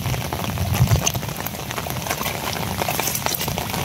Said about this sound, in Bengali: ধুমসে বৃষ্টি শুরু হয়েছে